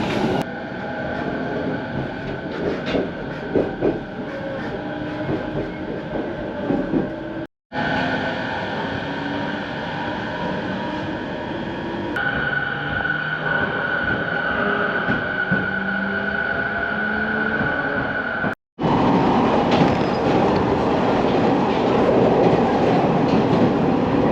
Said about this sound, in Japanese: まもなく総武本線下り銚子行きの電車が入線してきました